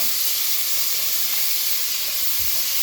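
Tomatoes hit a hot pan for bean soup, giving a steady, loud, continuous hiss and sizzle with no break and no talking.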